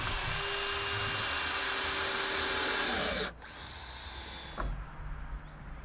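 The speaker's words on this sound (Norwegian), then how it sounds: "Skru så fast bordet i hver stender med to skruer." Power drill driving screws through a deck board into a post, a loud sustained whir that cuts off abruptly, followed by a softer spin and a brief knock; no talking.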